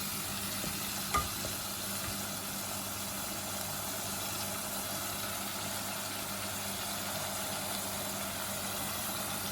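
Masala for aloo gosht sizzles and fries in a pan while being stirred with a wooden spoon, a steady quiet hiss with one small knock near the start, no voices.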